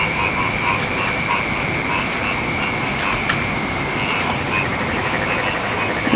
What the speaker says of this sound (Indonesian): Suaranya kodok.